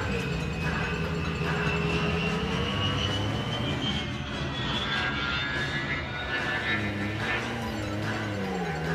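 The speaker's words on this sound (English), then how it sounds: "Trax decides to take his flight mode because he's tired of Dirge tampering with everything" A jet flight effect from a Generation 2 Transformers toy commercial: a loud, steady engine roar with a rising whine that sweeps across, heard alone without talk.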